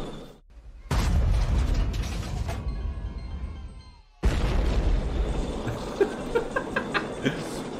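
Bonanza slot video game tank bonus effect: heavy mechanical clanking and rumbling bursts with booms, a brief quieter gap in the middle, then more grinding mechanism sounds and sharp hits.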